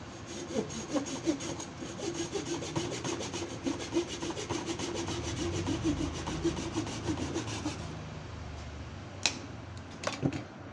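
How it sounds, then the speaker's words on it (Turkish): A wooden branch piece held in a vise is sawn off while an old cage is being rebuilt. Steady, rhythmic back-and-forth saw strokes run close and loud for about eight seconds, then stop, followed by a few light knocks. "Ondan sonra şu kısmı keseceğim. Dal olarak."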